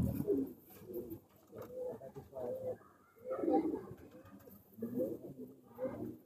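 Pigeons of the Gatwa breed cooing in soft, repeated rolling phrases close by, several calls in succession with brief pauses, a faint voice in the background.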